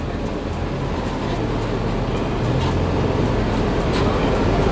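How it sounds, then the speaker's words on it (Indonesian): Petrol car engine idling steadily during a tune-up with a test probe inserted in the exhaust pipe, a continuous close low rumble with no gaps and no talk. "ini kan mesinnya sudah keadaan hidup"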